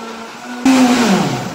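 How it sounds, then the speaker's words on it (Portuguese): A kitchen blender starts abruptly and runs loud and steady, whirring as it purées carrots into a cream batter for a gluten-free, lactose-free carrot cake, its pitch sagging slightly as the load thickens. "E aí eu vou bater isso aqui até virar um creme de cenoura"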